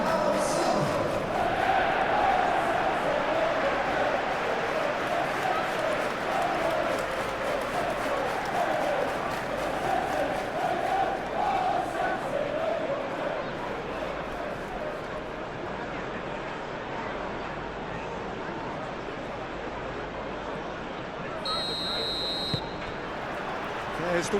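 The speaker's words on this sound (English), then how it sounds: "the atmosphere, Peter, certainly doesn't feel like a friendly" A dense stadium crowd roars steadily at a Manchester City vs Borussia Dortmund Champions League football match, with a sustained chant rising mid-way and a brief whistle near the end.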